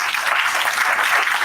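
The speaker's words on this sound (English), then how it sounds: "just give yourself a round of applause." Audience at a women's dialogue event clapping together, a dense, even wash of applause held steady for its whole short length, moderately loud with no voices.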